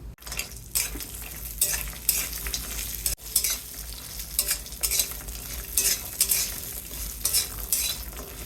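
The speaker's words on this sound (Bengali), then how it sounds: "ওই তেলে দিয়ে দিব ডালের গুঁড়ো ডালের বড়িটা ভেজে নেব" Lentil dumplings (dal bori) fry in oil in a pan that was just used for frying eggplant, with a steady sizzle under irregular stirring scrapes and a sharp knock partway through.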